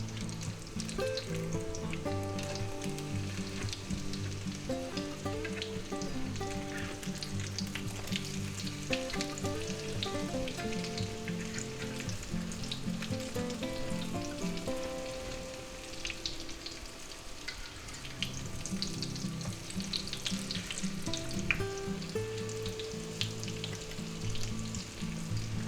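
Eggplant slices for eggplant parmesan fry steadily in a pan, giving a continuous dense sizzle and crackle that stays even throughout, with no voices.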